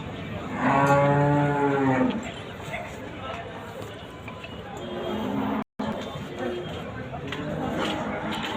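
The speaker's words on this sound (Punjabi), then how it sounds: "ਸਾਈਵਾਲ ਗਾਵਾਂ" Sahiwal cows moo loudly at an evening livestock market in Dabwali, one long low call standing out near the start, followed by market murmur, shuffling and a few fainter bellows.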